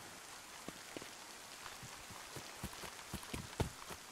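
Rain falls steadily in the video game DayZ, a broad hiss of drops on surfaces with scattered soft thuds like footsteps growing a little busier toward the end; no one speaks.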